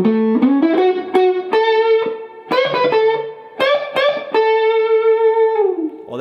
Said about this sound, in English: Playing what we have so far in the second half of our solo